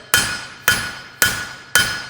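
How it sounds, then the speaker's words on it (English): Four evenly spaced hammer blows ring out on forged metal being flattened for a hammered finish, each a sharp, loud metallic strike with a bright ringing tone that decays before the next, roughly half a second apart. "Now we're going to finish this off by flattening and doing a bit of hammer finish"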